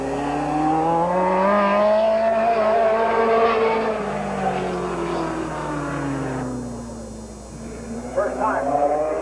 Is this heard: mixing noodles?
no